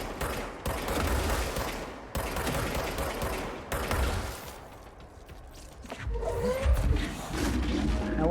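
Rapid bursts of gunfire from the player shooting in the video game Control, loud sustained volleys broken by short pauses, ending with heavier booming impacts.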